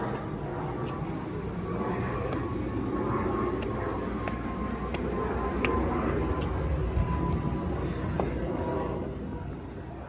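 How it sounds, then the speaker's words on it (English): A plane passes overhead in Hanover, Maryland, a steady, distant jet rumble heard outdoors during a home tour, holding at an even level throughout. "You may have heard that plane overhead."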